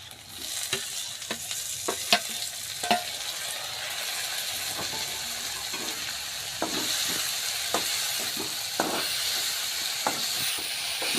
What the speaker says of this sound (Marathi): पूर्ण मसाला भाजला ना आता हे टाक टमाटर टाकून नंतर आणखी भाजून देत्या